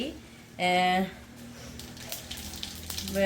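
Fennel seeds and mustard seeds crackle and sizzle in hot oil while tempering, a steady frying hiss, with a voice talking over it.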